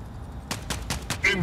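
Incoming weapon fire in the Mech Arena video game, a rapid series of four or five sharp bursts in quick succession, with a brief electronic tone at the end.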